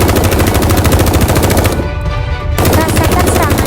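Rapid, loud synthetic gunfire from a sniper weapon in an animated battle story, a dense continuous burst of shots that breaks off briefly before resuming at full intensity.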